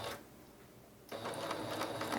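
A sewing machine runs briefly after a quiet pause, stitching a cross-stitch scroll rod cover with a steady, close mechanical whir that continues to the end.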